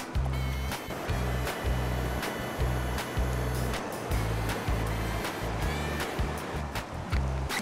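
A mountain river rushes loudly and steadily while a water-filter bottle's intake is lowered into it, with a continuous wash of flowing water and a faint regular low pulsing beneath.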